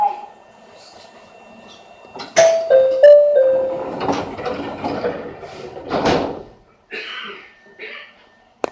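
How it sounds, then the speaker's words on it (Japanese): Train doors sliding shut on a Chichibu Railway local train at Hanyu station, with a recorded announcement voice, a chime, and a couple of sharp door thuds and slides in the middle. "ドアが閉まります。"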